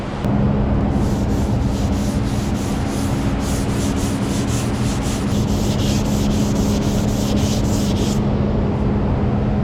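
Body filler on a Honda Civic is sanded by hand on a sanding block in steady, close back-and-forth rubbing strokes that continue for several seconds without talk.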